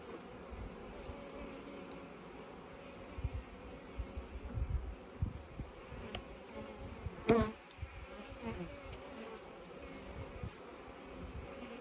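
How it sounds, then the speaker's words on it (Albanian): A dense, steady hum of many honey bees buzzing close by, with a brief louder rustle partway through and no voices. "Aty janë bletë të reja në fjalë"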